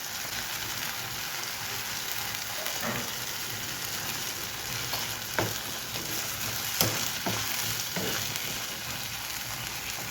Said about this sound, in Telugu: ఇప్పుడు ఇందులో మనం 2 పిక్కలతో తీసిన చింతపండు రసం వేసుకుందాము.